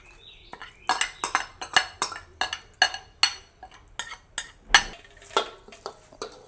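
A spoon clinks and scrapes against a pan while stirring pepper, cumin and curry leaves, with about a dozen sharp, close metallic knocks in an uneven rhythm and no talking.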